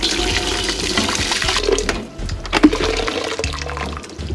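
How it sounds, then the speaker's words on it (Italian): Water pours into a basin beneath a perforated steamer holding asparagus in a home kitchen, a steady splashing fill lasting several seconds with no talk. "Andiamo a versare l'acqua."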